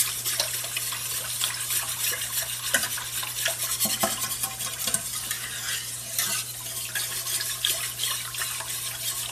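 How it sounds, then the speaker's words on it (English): A whisk stirs condensed potato soup in a bowl for soup made from scratch, with steady close scraping and clicking strokes. A low hum runs underneath and no one speaks. "So I'm going to get my whisk, Mr. Man, and mix this stuff up good."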